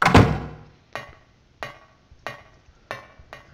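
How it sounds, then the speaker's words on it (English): Repeated door-opening sounds in the Silent Hill video game: a heavy thunk followed by four evenly spaced, sharp knocking or clunking hits, fairly close and clear, with no talking. "I'm gonna open the door."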